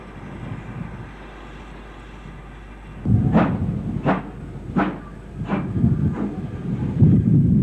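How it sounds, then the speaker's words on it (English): BR Standard Class 5 steam locomotive on the Northampton line, a rumble of running train with a series of evenly spaced sharp exhaust beats or clanks, heard from a moderate distance. "A BR Standard Class 5 on the Northampton line."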